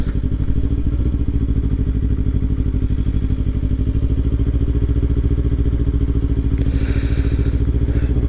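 Kawasaki Ninja 300 motorcycle engine running steadily close by with a continuous loud drone and rapid mechanical clatter, a brief high whine near the end as it drops toward neutral while downshifting to first.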